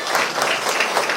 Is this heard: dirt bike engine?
no